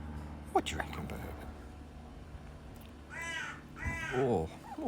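A crow gives two harsh, close caws in quick succession outdoors, following a voice talking near the start.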